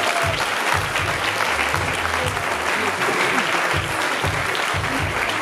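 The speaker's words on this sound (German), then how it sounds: "noch einen großen Applaus für diese tolle Damenklasse" Steady, full audience applause at a bodybuilding and fitness awards ceremony in Austria, continuous and loud throughout with a low booming undertone of music or voices beneath.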